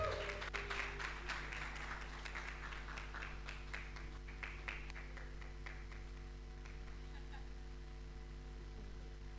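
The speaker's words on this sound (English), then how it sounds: "Guys, don't get tired of clapping" Applause at a fellowship cohort graduation, sparse clapping that fades in and out over a steady low hum, faint and somewhat distant.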